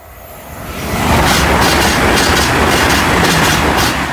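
A train passes the Grove Road level crossing, rising from a rumble into a loud, close, sustained roar with rhythmic clatter of wheels over rail joints, staying strong to the end with no voices.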